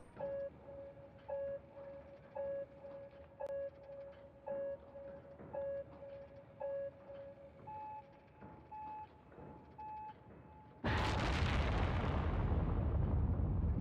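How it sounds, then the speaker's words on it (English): A rocket launch in the Cities: Skylines video game: a countdown of regular electronic beeps gives way to a sudden, loud, sustained roaring rush of engine ignition and liftoff, with no talking. "Let's go ahead and launch a rocket, shall we?"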